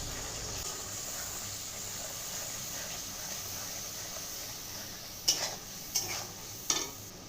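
Cumin, coriander, chili and turmeric fry in a pan with a soft, steady sizzle. Three sharp utensil scrapes come near the end, close by, with no one talking.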